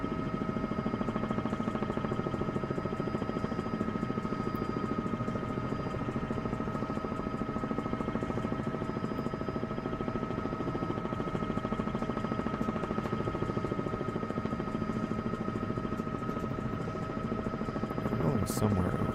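Helicopter heard from inside a corporate aircraft cockpit: a steady, loud droning engine and rotor hum with constant harmonic tones fills the whole stretch without letting up.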